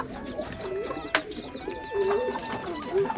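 Pigeons cooing at a rural pigeon farm, soft repeated rolling coos from a few birds at moderate distance over faint outdoor background, with no talking.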